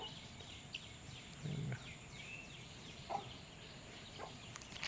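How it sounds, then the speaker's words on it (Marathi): Hens roaming outdoors in rainy Konkan countryside give a few faint, sparse clucks against a soft, steady background. "बाकीची कोंबडी आपली काहीतरी असते फिरत"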